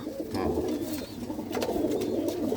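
Close, low, rolling coos from a flock of high-flying breed pigeons, a steady throaty murmur that continues throughout the short stretch.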